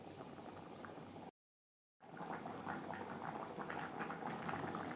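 A Bengali curry of snakehead fish (shol) and potatoes simmering in a pan, a close, soft bubbling boil that stops for a moment of silence and then returns a little louder, with no voices.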